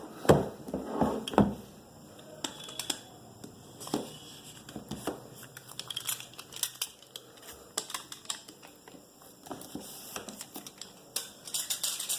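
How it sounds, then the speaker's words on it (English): A seal on an Apple iPad 6th generation 2018 box being cut open, a series of close, sharp clicks, snips and scratchy plastic crackles in irregular bursts against a quiet background. "So let's cut the seal and take it out."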